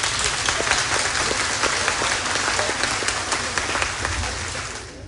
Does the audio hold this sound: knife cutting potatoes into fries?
no